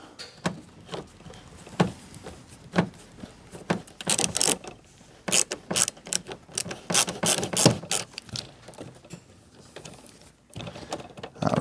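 Long Phillips screws are backed out of a van door with a ratcheting tool, making bursts of close, loud clicking and grinding in irregular runs with short pauses between them.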